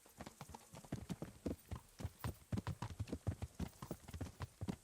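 Horse hooves clip-clop in a steady rapid rhythm while riding in the video game Kingdom Come: Deliverance II, fairly faint and continuous with no talk over them.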